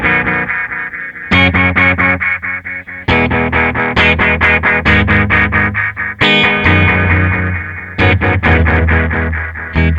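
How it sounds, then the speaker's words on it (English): Guitar through a Red Witch Titan delay pedal with two delays running in series, bright picked notes and chords repeating in cascading echoes that stack and trail after each phrase, loud and with no talking. "So the first delay is now feeding its output into the input of the second delay"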